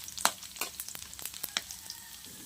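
Pork rind chicharon frying in oil over medium heat until brown, a quiet crackle with scattered sharp pops and spits at an irregular pace, heard close and alone.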